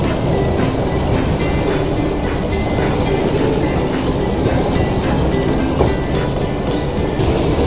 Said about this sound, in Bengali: ট্রেন আমাদের এগিয়ে চলেছে তার গতিপথে